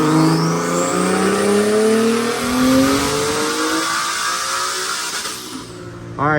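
A single-turbo Nissan 370Z revs hard on a dyno, the engine note climbing steadily through the gears with a loud, continuous roar before dropping off abruptly near the end, no talking over it.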